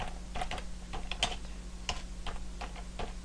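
Close, crisp clicks of a computer keyboard as text is typed into a PowerPoint text box, keystrokes coming in an uneven stream over a low steady hum.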